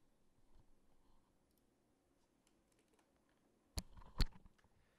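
Typing on a computer keyboard, faint and sparse at first, then a couple of sharp, close key clicks with a short flurry of taps near the end.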